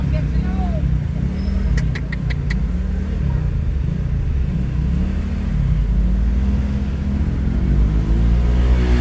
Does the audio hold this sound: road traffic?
yes